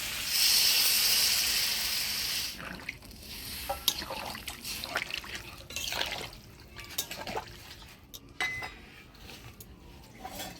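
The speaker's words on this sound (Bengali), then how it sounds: "এবার জল দিয়ে দিব" Water poured into a simmering potato-stem curry for a katla fish stew, a broad liquid rush in the first couple of seconds followed by clinks, drips and utensil stirring sounds nearby.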